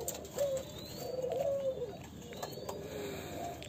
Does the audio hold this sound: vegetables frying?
no